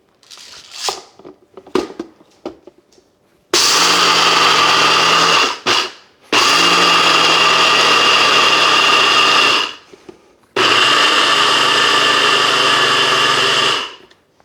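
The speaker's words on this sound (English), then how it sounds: "Let's see how this works on grinding up coffee." An ODIFORGO blender grinds coffee beans in three loud, steady bursts of a few seconds each, with short pauses between, after some light clattering of beans and handling.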